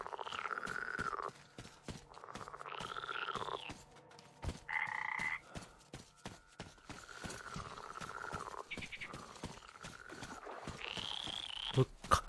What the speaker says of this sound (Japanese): カエルの鳴き声？ これは。